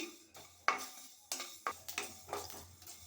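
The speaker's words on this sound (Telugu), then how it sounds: "దూరగా ఎర్రగా ఈవెన్గా వేయించుకోవాలండి మెంతులని" Fenugreek seeds roasting in a dry pan for pickle, with a utensil scraping and tapping against the metal in several distinct strokes, close and moderately loud, with no one talking.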